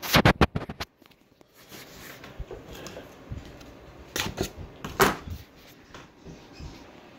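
A blade cuts open the box of a Huawei Smart Watch 2, opening with a quick run of sharp scrapes and clicks and followed by softer scratching and a few louder cardboard snaps, close and with no talk.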